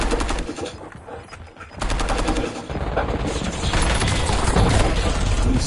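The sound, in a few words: gunfire from a video game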